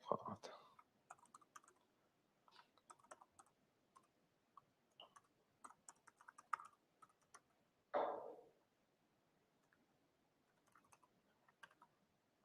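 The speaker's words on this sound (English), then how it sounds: "I have to actually type it in" Quiet, irregular keyboard typing with scattered key clicks, pausing now and then, plus a louder burst of clatter near the end.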